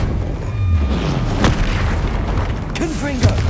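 Incendio fire spell cast in the Hogwarts Legacy video game, a low rumbling boom under a whooshing burst, with a voice calling out over a loud continuous background.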